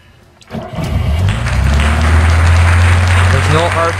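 A Lada kopeyka engine, started cold with the choke pulled, cranks briefly and then catches, settling into a loud, steady, high idle that runs close and continuous to the end.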